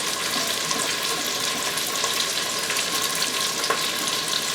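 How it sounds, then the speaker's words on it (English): Honey, soy sauce and other ingredients being stirred together inside an Instant Pot, a steady close wet swishing and sizzle-like rustle that continues evenly without pause and without speech. "Let me get this stirred up to where the honey and the soy sauce and everything go together"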